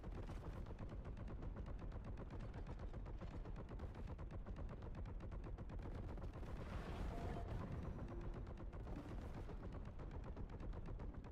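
Video-game gunfire rattles as a continuous rapid burst of automatic shots, faint and evenly paced throughout with no pauses.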